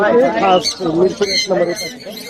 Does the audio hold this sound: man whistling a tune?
no